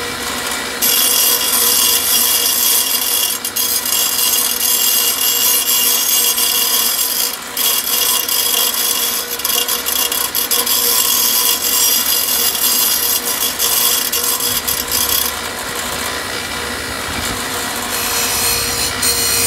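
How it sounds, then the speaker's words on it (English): A grinder works metal pieces round for an atomic-style ashtray, producing a loud, continuous abrasive rasping whine that runs steadily and close throughout with only slight dips. "So we're gonna grind these first, and then we're gonna go ahead and just tack them"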